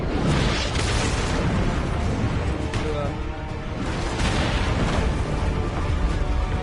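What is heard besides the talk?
cannon fire in video game Assassin's Creed Revelations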